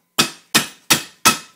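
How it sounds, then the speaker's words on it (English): Four loud, evenly spaced hammer blows strike a scrap motor part, flattening one side before it goes into a vise, each impact sharp and close with a quick decay and no talk. "Just take and hammer one side down so it fits in the vise real nice"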